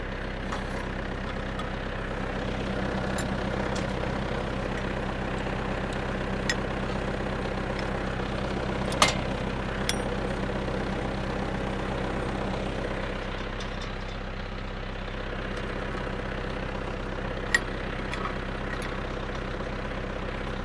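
A steady tractor engine idles throughout with a low, constant rumble and a few faint clicks and knocks on top; no voices.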